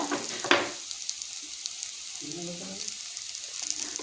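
Onions in a pan with chilli powder, Kashmiri chilli, turmeric and cumin just added, sizzling gently after a sharp initial hiss, with faint stirring scrapes and a soft steady crackle.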